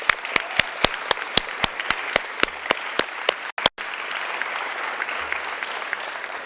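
Applause from an audience at a high school JROTC change-of-command ceremony, honoring local award winners: a dense, steady wash of clapping with a few sharp, loud individual claps standing out near the front, briefly cutting off before resuming.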